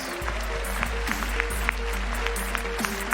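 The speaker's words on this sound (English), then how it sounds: "Give one last round of applause for his cosplay as Demonic Thanatos." At the TwitchCon 2019 cosplay contest, a convention crowd applauds a Demonic Thanatos cosplay, steady clapping over a loud low hum from the hall's sound system, with occasional sharper claps standing out.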